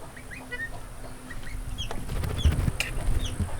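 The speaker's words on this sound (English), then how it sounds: "So now we are up to 7 baby goslings in here, and I did have a baby Orloff hatch" Seven baby goslings and a newly hatched Orloff chick, kept alongside young Muscovy ducklings, give scattered high, thin peeps in short bursts over a low background rumble and faint shuffling.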